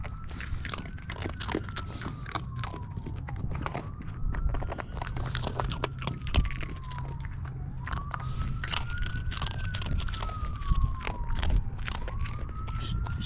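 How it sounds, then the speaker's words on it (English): A distant emergency siren wails in slow rising and falling sweeps while a dog crunches a biscuit up close, with steady background noise throughout. "She hears the siren."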